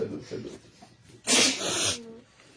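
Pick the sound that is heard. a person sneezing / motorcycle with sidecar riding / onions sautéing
a person sneezing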